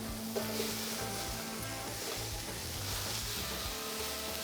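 Peppers and onions sizzling on a Ninja Sizzle indoor grill, a continuous soft hiss and crackle held at an even level throughout, with no voices.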